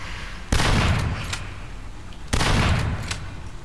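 Two heavy blasts, well spaced, from a shotgun in the survival horror game Daymare 1998, each with a short decaying tail, with no voices over them.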